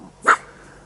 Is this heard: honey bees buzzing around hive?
no